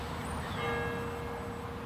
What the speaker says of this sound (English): these bells, some of them date back to the 1500s